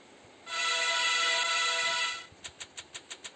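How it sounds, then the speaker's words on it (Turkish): A subway train horn in a Minsk metro simulator game sounds as one sustained, steady electronic tone lasting under two seconds, followed by a quick series of six short, evenly spaced beeps. "korna çalacağım"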